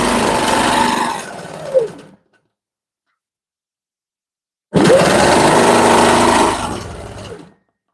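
A sewing machine stitching a bed quilt runs in two loud, steady bursts of motorized whirring, the first lasting about two seconds and the second about three, with silence between them.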